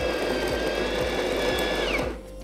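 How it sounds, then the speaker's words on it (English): A De'Longhi La Specialista Prestigio espresso machine grinds coffee beans into a portafilter, a steady close mechanical whir with a high tonal whine that stops near the end. "the Prestigio will begin to grind the beans automatically"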